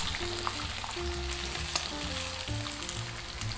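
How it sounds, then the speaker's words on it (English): Pork slices for ginger pork (shogayaki) fry in a heated frying pan, giving a steady, dense sizzle that holds evenly throughout, close up with no voices. "arrange the pork slices on the pan without overlapping them"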